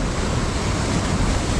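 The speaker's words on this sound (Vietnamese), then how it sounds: "Giờ ra mà gặp sóng to quá." Big ocean surf crashes on the shore on a rough-sea day at the beach while fishing, a steady loud roar of breaking waves mixed with wind buffeting the microphone, with no talk.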